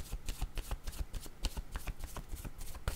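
Tarot cards being shuffled by hand, a steady run of quick riffling, slapping card sounds, close and fairly loud, continuous throughout without speech.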